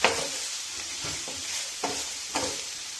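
Green bitter gourd with salt and a little sugar fries in a pan, a constant close sizzle broken by several scraping stirs of a spatula.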